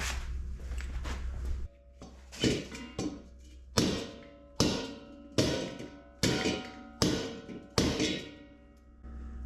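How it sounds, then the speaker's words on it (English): A lead hammer strikes metal about eight times at a steady, unhurried pace, each blow a sharp clang that rings briefly before the next. "Where's my lead hammer?"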